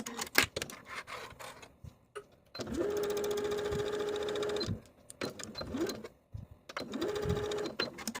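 A sewing machine bastes the edges of a pocket piece with a 1/4 inch seam allowance while a skirt and shorts combo is sewn, running in three steady bursts of whirring stitching separated by short pauses.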